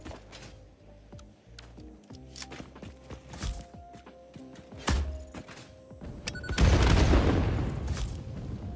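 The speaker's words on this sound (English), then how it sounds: "Oh yeah, I detonated the oops bomb." A bomb in Satisfactory goes off as a loud, deep boom with a rushing roar that swells and lingers, after a stretch of scattered thuds and clanks.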